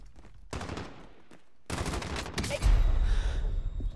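Video game gunfire in a Warzone gulag match: bursts of rapid automatic shots in two loud clusters, with a heavy rumbling blast near the end, close and intense.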